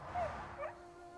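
A white dog in the video game Crimson Desert gives a couple of short, soft yips and whines, faint over a low steady background hum.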